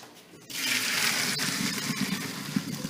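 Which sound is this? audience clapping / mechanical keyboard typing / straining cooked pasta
straining cooked pasta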